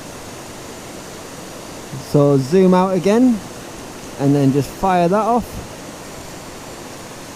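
Steady broadband rush of a waterfall on the Isle of Skye, constant and moderately loud throughout, with someone talking briefly over it in the middle.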